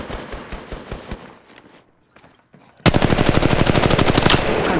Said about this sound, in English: Shooting, taking fire.